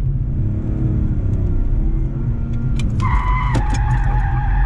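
A car drifts and slides around a cone in a drift practice session, its engine roaring loud and near before a high tyre squeal rises and holds for the last seconds.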